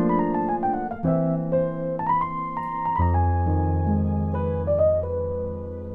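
A melodic lick with chromatic passing tones linking two chords, sustained harmonic notes shifting pitch over a steady low accompaniment, played alone at moderate level without talk.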